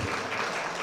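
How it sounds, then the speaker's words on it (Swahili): An audience at a legends football match event in Zanzibar applauds, a dense, steady wash of clapping that fills the whole moment without a break. "Mpigeni makofi."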